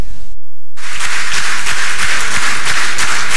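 Prolonged applause from Central Committee members welcoming the Prime Minister: dense, steady clapping from a large crowd, loud and continuous after a brief silent gap.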